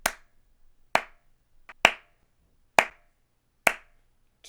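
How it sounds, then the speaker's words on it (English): Five sharp hand claps spaced about a second apart in a steady beat, with one softer tap between, close and clear in a quiet room during a beginner piano lesson. "Okay, so I'm gonna clap it."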